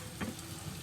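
Green tomatoes frying in oil in a pan, a soft continuous sizzle with a brief louder crackle as they are shifted to the side.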